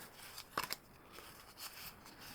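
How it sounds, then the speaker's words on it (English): Pokemon trading cards are separated by hand, giving a few quick soft flicks and slides of card stock in a quiet room. "separating out the trainer cards"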